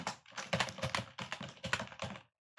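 Someone types an email address on a computer keyboard, a quick, close run of key clicks in short clusters with brief pauses, ending in a moment of silence.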